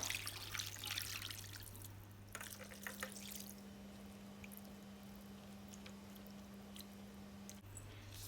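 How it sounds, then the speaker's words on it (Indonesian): About a liter of water goes into a pot for oxtail soup, with soft splashing and trickling up close, then a quieter wet stretch under a steady low electrical hum. "Masukkan air kurang lebih 1000 ml."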